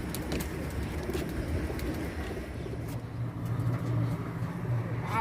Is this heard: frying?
no